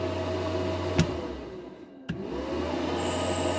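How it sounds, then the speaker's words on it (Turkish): Steady airy blowing from the air conditioner inside a Regal Raptor four-wheel electric car, a constant close whoosh broken by two brief clicks as the setting changes. "Bu klima arkadaşlar."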